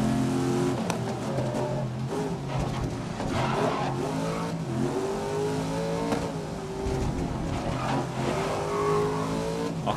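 A race car engine in GRID 2019 revs hard and accelerates, a loud sustained whine climbing and dipping in pitch through gear changes without a break, close and dominant with no talk over it.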